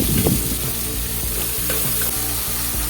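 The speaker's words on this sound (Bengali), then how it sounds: "এই পেঁয়াজটাকে আমি ভালো করে আমি তেলের সঙ্গে ভেজে নেব" Medium-sized chopped onions frying in hot oil for a goat meat curry, a steady close hiss of sizzling with a few faint scrapes and knocks, no voices.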